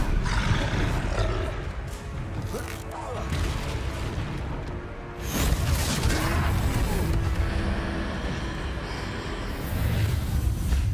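A troll in the Hogwarts Legacy video game bellows during a battle, with a loud, sustained roar and booming rumble dominating throughout, a short dip midway, then more roaring over dense game noise.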